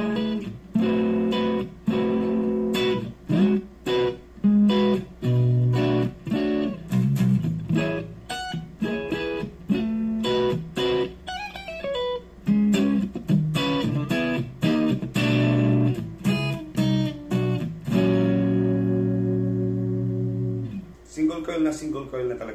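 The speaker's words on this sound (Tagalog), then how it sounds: "So ito yung tunog ng single coil." An electric guitar with its neck humbucker coil-split to a single-coil tone plays loud, bright strummed chords and single-note runs with slight overdrive, close and continuous.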